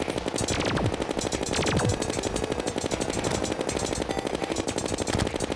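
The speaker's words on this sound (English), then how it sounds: "The Megashark from the Destroyer is really handy." Megashark rapid-fire gun blasting continuously in the video game Terraria, a dense, steady stream of loud repeating shots with some sweeping tones overlaid, no talking.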